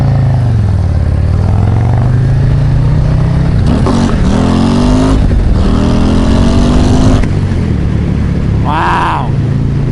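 Harley-Davidson Road Glide ST motorcycle with a Screamin' Eagle 135 engine, ridden on an open road: a steady, loud engine drone that rises and falls with gear changes and revving throughout.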